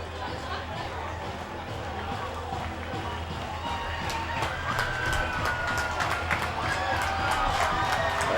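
Baseball crowd at Bethpage Ballpark during a Long Island Ducks game, a broad distant murmur of chatter and cheering that grows louder toward the end, with scattered claps and whistles mixed in.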